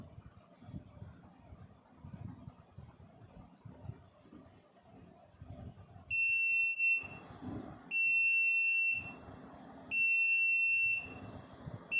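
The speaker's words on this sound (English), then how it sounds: "Now you can see that LED is giving beep sound, which means while turning on it is giving sound" A piezo buzzer wired into an LED blink circuit gives three loud, shrill beeps, each lasting about a second with short gaps between. Before the beeps, only faint rustling handling noise is heard.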